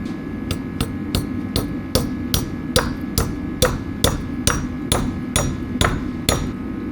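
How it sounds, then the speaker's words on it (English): A brass hammer strikes a bearing about a dozen times at a steady pace, seating it, each sharp ringing clank close and loud over a low hum. "Gonna grab my brass hammer."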